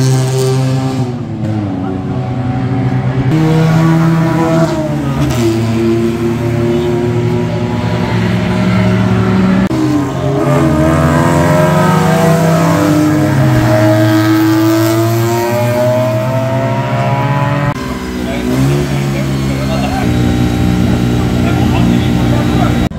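Engines rev and whine as small Subaru 360 cars race at Meat Motor Land Mikawa, pitch rising and falling with gear changes, while a voice talks over the motor noise throughout.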